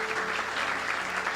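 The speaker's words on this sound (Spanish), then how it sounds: "¿Cuánto le damos un aplauso al Señor por eso?" Congregation in a church applauding, a steady dense clapping from a crowd that fills the short moment.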